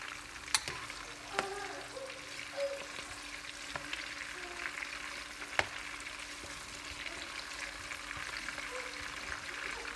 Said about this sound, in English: You saute this until soft.